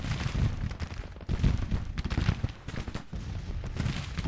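Artillery battery firing in a Civil War strategy game, a dense, continuous rumble of overlapping cannon booms and crackling gunfire rolling on without pause.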